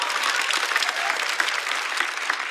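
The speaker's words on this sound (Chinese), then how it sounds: "掌声送给郑宇潇" An audience claps loudly at a Chinese stand-up comedy show, a steady burst of dense applause with a few sharper individual claps standing out, no voices on top.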